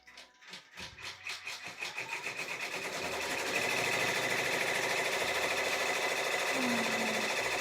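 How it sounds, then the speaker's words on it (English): An embroidery machine stitches a tack-down line for lion ears, its needle starting with a few spaced strokes that quicken into a steady, loud, rapid mechanical chatter running alone to the end. "I'm going to stitch the tack down for these ears."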